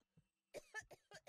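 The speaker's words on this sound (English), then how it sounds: "Okay, she coughed" Teacher character in the game Scary Teacher 3D coughing: a faint brief throat sound followed by a quick run of four harsh, close cough bursts, with no talk over them.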